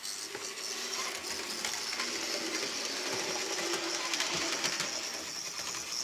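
A Hornby Clan Line model locomotive runs with a constant loud mechanical whirr and grinding rattle of gears, steady and close throughout.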